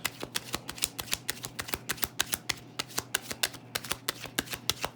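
Tarot cards shuffled in quick, steady riffles, about four crisp slaps per second for five seconds, close and clear with no talking.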